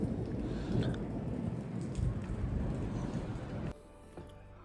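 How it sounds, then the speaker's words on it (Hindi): Steady heavy rain pours outdoors during a hailstorm, a dense close hiss with low rumbling beneath that cuts off abruptly near the end, leaving a much quieter room tone. "जैसे कि मैं आपको बता रहा था कि बारिश हो रही है, तो बस अंदर बैठे हैं।"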